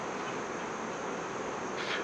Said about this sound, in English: They're kind of flying around my head.